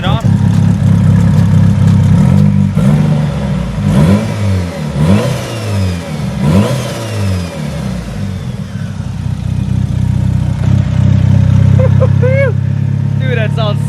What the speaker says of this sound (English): I'm gonna go ahead and let the car run for like 15 minutes to make sure that everything's good to go